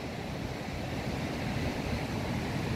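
Calm sea waves at Praia Gravatá beach in Santa Catarina, Brazil: a steady, soft wash of surf with a constant hiss and no distinct breaking crash, and no one speaking.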